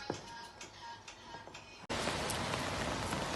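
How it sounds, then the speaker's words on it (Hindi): Heavy rain falls at night outside a home, a steady patter that suddenly swells into a loud, close, dense hiss partway through. "रात के 9 बजे इतनी बारिश में"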